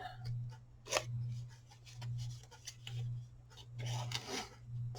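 Scissors snip through a cardboard paper towel roll during a craft session, giving faint, quiet cuts that repeat in a loose rhythm with a low steady hum underneath.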